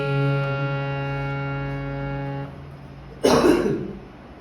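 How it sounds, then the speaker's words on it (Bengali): A singer coughs once, a short loud burst up close that follows a sustained harmonium chord fading to near silence. "গান করা অবস্থায় কাশি চলে আসতেছে"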